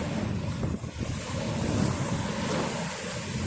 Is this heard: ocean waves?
yes